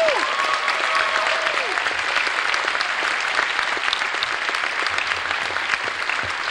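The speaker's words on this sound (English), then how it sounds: "Can we all give them a round of one round of applause, please?" A convention crowd at the closing ceremony of a furry convention claps steadily and loudly for the whole stretch, a dense, even wash of applause with faint voices beneath.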